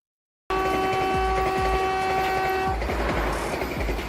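A Vande Bharat Express passenger train runs past close by, its horn sounding loudly and steadily for about two seconds over rhythmic wheel clatter, then the rolling clickety-clack continues alone.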